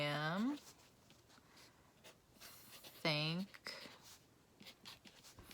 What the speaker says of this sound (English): I'm gonna do purple, and you're gonna write on top of your pumpkin pie